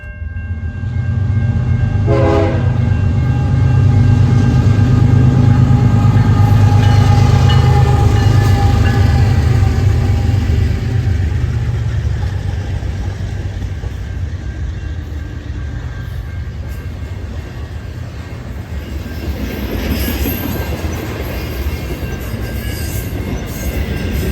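A long freight train with four locomotives leading and two pushing rumbles past steadily, with loud low engine drone, clanking cars and squealing wheels, and a horn sounding early on.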